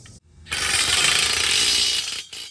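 A manual hand drill enlarges holes in steel with one dense, grinding, rasping burst of about a second and a half, loud and close, with brief quiet before and after.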